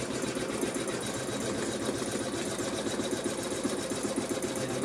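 Domestic sewing machine stitching quilting fabric with wadding, a steady fast mechanical whir and rapid rhythmic needle clatter running continuously up close.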